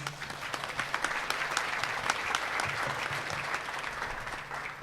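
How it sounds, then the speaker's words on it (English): Crowd applause at a conservation business luncheon, a dense burst of clapping that carries steadily for several seconds before tapering slightly. "Let's give the head table a round of applause."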